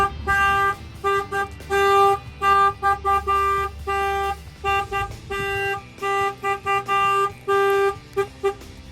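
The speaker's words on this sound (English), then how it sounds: "The alarm's gonna fire off." A semi truck alarm honks in rapid repeated bursts, loud and nearby, the horn pattern changing rhythm several times without pause.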